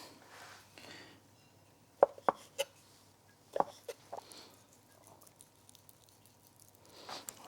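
A knife trims fat from a duck breast on a board, giving a few close, sparse cuts and soft squishy taps against a quiet background.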